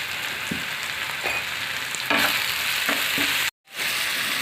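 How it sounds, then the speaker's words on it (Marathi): Chopped tomatoes with turmeric and spices sauté in a pan for village-style brinjal bharit, a steady close sizzle with occasional stirring scrapes and a brief cutout near the end. "आता आपले सर्व जिन्नस छान परतून झालेत."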